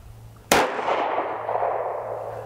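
A single sharp, loud shot from a NAA .22 Magnum mini revolver firing CCI rounds, cracking suddenly up close and then trailing off into a long, ringing echo.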